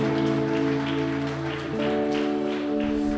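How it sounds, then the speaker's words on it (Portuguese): Church congregation applause during a worship service, a soft rustle of clapping hands beneath loud, sustained keyboard or organ chords that dominate throughout. "aplauda o Senhor Jesus essa noite"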